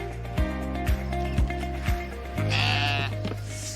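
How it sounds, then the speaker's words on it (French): Sheep bleat in the salt meadows of Saint-Germain-sur-Ay in the Cotentin, several close, loud calls in a loose rhythm followed by one longer bleat, with no talk over them. "Les moutons sont là."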